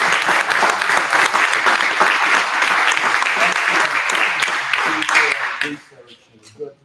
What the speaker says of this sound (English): Let's give Justin a round of applause.